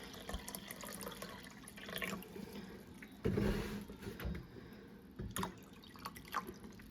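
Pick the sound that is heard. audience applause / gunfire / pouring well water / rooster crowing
pouring well water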